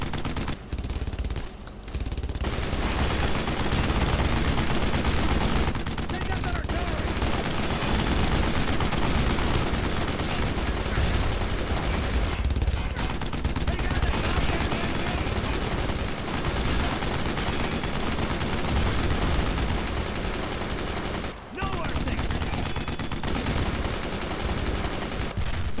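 Sustained, dense gunfire and tank fire in the World War II shooter Brothers in Arms: Road to Hill 30, with loud continuous bursts and rattling shots filling the whole stretch with almost no pause.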